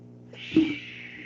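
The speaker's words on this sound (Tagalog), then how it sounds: "Nag-aaway yung pusa." Cats squabble nearby, with a tense, drawn-out feline growl and a short yowl rising over a steady low hum, moderately faint.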